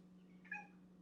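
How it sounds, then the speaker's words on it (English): A single short, faint cat meow sounds once, soft and brief over a low steady hum. "that was the cutest meow"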